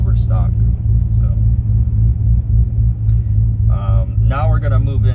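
A cammed Corvette Z06 engine idles at about 1200 RPM with a deep, loud, pulsing rumble that throbs steadily throughout, while someone talks briefly over it.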